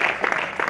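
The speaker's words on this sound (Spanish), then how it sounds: "Fuerte aplauso para ellos." Brief burst of audience applause for prize-winning couples at a summer awards ceremony, loud and close, a dense patter of clapping.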